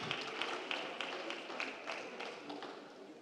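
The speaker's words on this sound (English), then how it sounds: "give their principal, April Shell, a huge round of applause" An audience at a school district board of trustees meeting gives a round of applause, a faint, steady patter of clapping hands with soft rhythmic taps throughout and no voices over it.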